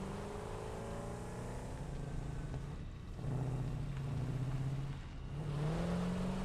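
A vehicle in Satisfactory drives along with a steady engine drone, its pitch rising and falling as it speeds up and slows down, moderately loud and continuous with no talking.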